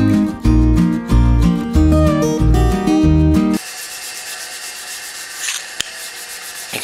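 An abrasive pad rubs across a metal disc being prepared for TIG welding on a fabricated spill can, a steady broadband scrubbing that takes over after a few seconds of loud music and carries on alone with one sharp tick.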